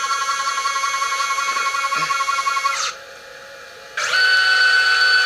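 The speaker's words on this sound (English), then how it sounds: "mill some holes here for making a bobbin holder for sewing machine bobbins" A CNC gantry mill cuts holes for a sewing machine bobbin holder, a loud steady high-pitched spindle whine that drops away briefly, then returns at a different pitch, close and without voices.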